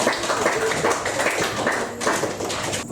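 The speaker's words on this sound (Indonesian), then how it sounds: "beri tepuk tangan untuk kelompok 4" A classroom of students gives a brief round of clapping for a group that has just presented a probability project, a dense, steady patter of many hands for about three seconds.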